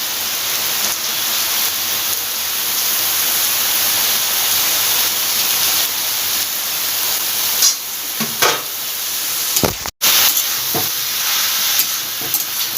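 Banana flower dropped into a hot pan with green and dry chillies and spices, giving a steady close sizzle and hiss that runs throughout, with a few stirring clatters near the end.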